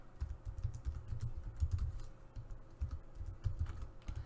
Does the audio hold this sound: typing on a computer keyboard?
yes